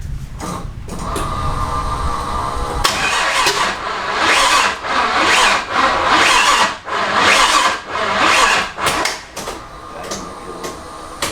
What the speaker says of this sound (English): we're gonna power up our fuel pump and hopefully this thing starts up